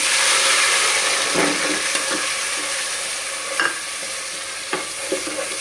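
Ginger paste, chili powder, peanuts, bay leaves and mixed spices fry in hot oil with a dense continuous sizzle, punctuated by a few sharp scrapes of a spoon stirring the pan, close and steady.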